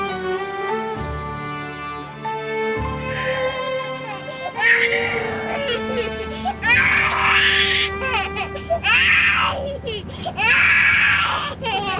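An infant wails in a Turkish television drama scene, with loud, rising, sustained cries that come in repeated bursts and grow stronger over the second half, while an adult voice speaks over them.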